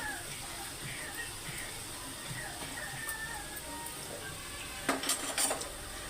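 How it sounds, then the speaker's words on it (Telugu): Curry leaves fry in a pan with a soft steady sizzle, joined near the end by a few metallic scrapes and clinks of stirring, close by with no talk. "కరివేపాకు కూడా వేసాక ఇది గోల్డెన్ కలర్లో వచ్చేదాకా మగ్గనిద్దాం"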